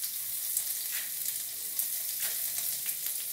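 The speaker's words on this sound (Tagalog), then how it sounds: "ganyan ang pagbibiwa ng ating sibuyas nito na" Onion and garlic sautéing in a pan for a Filipino breakfast, a continuous bright sizzle and crackle heard up close and alone, with faint stirring scrapes.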